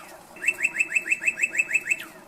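A cardinal gives a close, clear series of about ten quick, evenly spaced rising chirps, each a bright slurred whistle, against a quiet background with no talking.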